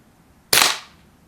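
A single sharp crack from a Winchester 1977XS pump air rifle charged with four pumps, close and loud with a brief fading tail, heard alone.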